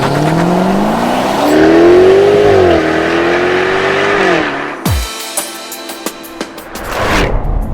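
A supercharged 5-litre V8 engine in a 2020 Jaguar F-Type R revs hard, rising and falling in pitch for several seconds, then drops to a loud rumbling idle with sharp throttle blips.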